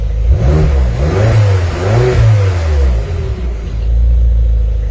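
A BMW X5 M engine, after a cylinder head replacement for valve stem oil seals, revs under acceleration: a loud, close, deep rumble rising and falling in pitch through a few surges, with no talking.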